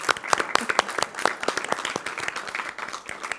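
Scattered clapping from a small room of staff at a government budget hearing, individual hand claps audible in an uneven, lively rhythm that thins toward the end.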